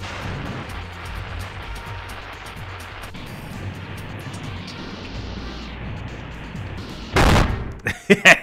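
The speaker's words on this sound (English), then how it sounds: "Just light all the rockets and prepare to be amazed by my genius." Rockets being lit and bursting in Spyro: Year of the Dragon on PlayStation, with a low rumbling buildup followed by a sudden loud blast near the end and a few sharp crackling pops after it.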